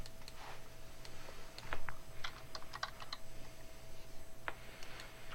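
Computer keyboard and mouse clicks in a quiet room, a scattering of light, close taps and clicks with a few brief bursts, over a steady low hum.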